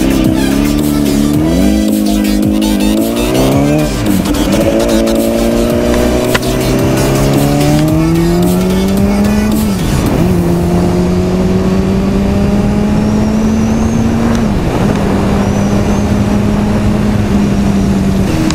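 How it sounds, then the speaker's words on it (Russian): Motorcycle engine revving hard on a night ride after a carburetor sync, loud and close, with rising and falling pitch sweeps as it accelerates through gears continuously without pause. "Вот мотик после синхрона работает прям четенько."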